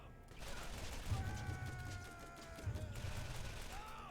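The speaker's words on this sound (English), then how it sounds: "Torg shotguns can still melt most enemies. Not even hitting mobs, just shooting at their feet." Torque shotgun fire in the video game Borderlands, two bursts of explosive blasts with trailing ringing tones, heard quietly under game noise.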